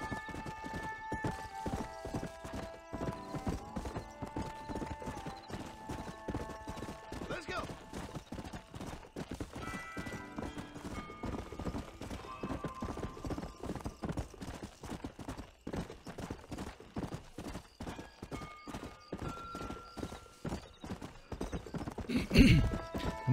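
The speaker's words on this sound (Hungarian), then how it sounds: "Szép fekete ló kell." Horse hooves clip-clop steadily in the Red Dead Redemption video game, a continuous close rhythm of sharp hoof strikes over game ambience and faint musical tones, ending with a louder burst.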